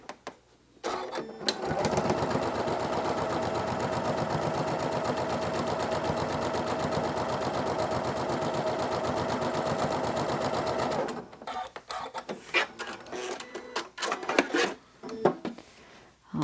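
Sewing machine stitching a fabric strip onto a quilt-as-you-go mug rug: a short start, then a steady fast rhythmic hum of needle strokes for about nine seconds, followed by a few brief bursts and clicks as the fabric is adjusted.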